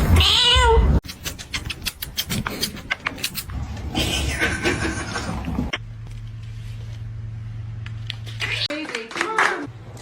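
A pet cat meows loudly at the start, followed by a busy household scene with people talking, a voice, clapping hands and a low steady hum.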